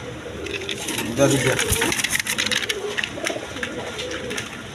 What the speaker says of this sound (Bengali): একদম দেখার মতো কবুতর, খুব ডাকে।